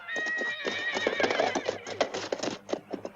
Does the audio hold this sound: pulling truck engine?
no